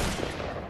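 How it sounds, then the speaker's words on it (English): A shotgun blast in a team shooter video game, a single short burst of dense, noisy gunfire sound filling the brief moment without any talk. "I might be able to shotgun him."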